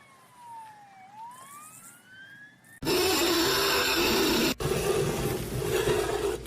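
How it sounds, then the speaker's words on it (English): A police siren wails in a rising and falling sweep in a TV commercial, fairly loud, then a sudden burst of dense broadband noise takes over and continues, with a brief dropout partway through; no talking. "I hear sirens."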